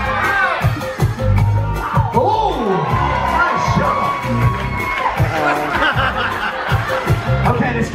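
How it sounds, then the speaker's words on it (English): A crowd cheers and shouts at a game aboard the Carnival Horizon cruise ship in San Juan, with loud overlapping voices, laughter and whoops rising and falling throughout and people talking close by. "Cheering already."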